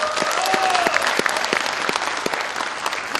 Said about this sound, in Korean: 여러분에게 다시 한번 존경의 박수를 보내고 싶습니다